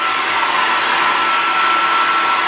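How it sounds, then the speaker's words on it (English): A hair dryer blow drying hair runs with a loud, steady, close whoosh and whine for a couple of seconds before cutting off abruptly. "I'm gonna blow dry my hair like completely."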